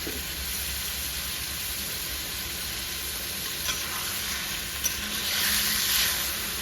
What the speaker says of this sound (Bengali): পাঁচ সাত মিনিট একটু ভেজে নেব